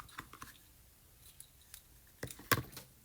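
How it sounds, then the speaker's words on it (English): Scissors snipping a piece of ribbon for papercraft, a few faint soft clicks followed by a sharper, louder close cut near the end, with no talking. "And I'm going to just cut a piece"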